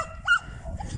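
A puppy whimpers and cries in a short, high, nasal whine close by, one thin rising yelp over faint background noise.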